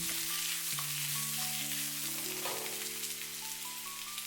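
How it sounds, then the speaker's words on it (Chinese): Winter melon is stir-fried in a wok with a little cooking oil, giving a loud, continuous close sizzle under soft background music tones. "先把冬瓜下锅爆炒片刻。"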